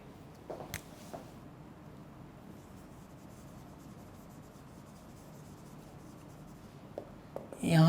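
Faint scratching strokes of writing on a board during a lecture, soft and intermittent, with a muffled voice in the background.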